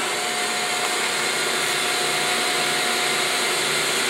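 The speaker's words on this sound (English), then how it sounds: "Spin dryer runs very nicely." A New Holland K90 18 by 18 spin dryer with its heat switch on runs steadily, giving a loud, constant whirring roar with a faint high tonal whine, close and without talk.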